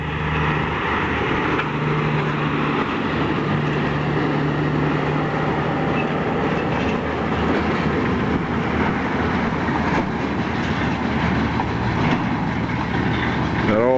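A road train with three trailers rumbles past near Alice Springs, Australia, with a steady low engine drone and road noise, sustained and fairly loud, with no clear speech.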